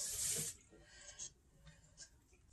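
Water from a tap runs briefly through hog casings while sausage is being made, a short splashing burst up front that fades to faint trickles.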